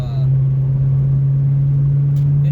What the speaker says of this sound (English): the car sounds fantastic